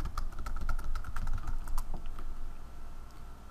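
A password is typed on a computer keyboard in quick, close clicky keystrokes, a burst of rapid taps that thins out toward the end, with no speech.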